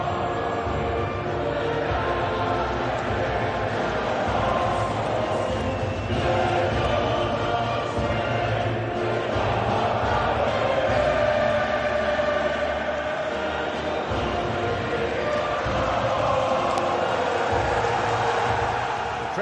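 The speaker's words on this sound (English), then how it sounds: "Crowd rises for the national anthem of South Korea." Stadium crowd noise in the PES 2019 football video game, a steady dense roar of a large crowd filling the ground before the anthems at a World Cup qualifier, continuous and even throughout.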